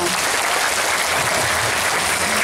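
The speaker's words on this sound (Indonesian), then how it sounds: "Tepuk tangan untuk kita semua" Loud, dense applause from an audience at a parenting session held in an Indonesian Islamic boarding school in Palembang, steady and continuous throughout with some voices mixed in.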